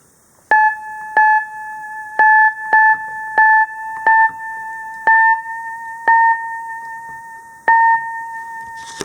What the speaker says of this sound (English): you can choose whether or not the keys will sound flat or sharp here.